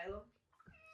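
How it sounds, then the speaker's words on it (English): A cat meows close by while rubbing against a phone stand, one drawn-out, loud meow followed by a shorter, softer cry. "That is my cat rubbing against"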